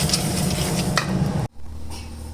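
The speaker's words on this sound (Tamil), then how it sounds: "சோளம் கம்பு குதிரவாளி இதை போட்டு இது வறுத்தரலாங்க" Sorghum, pearl millet and barnyard millet dry-roast in a pan with a dense rustling, scraping sizzle as the grains are stirred, loud and close, then cut off abruptly and resume fainter.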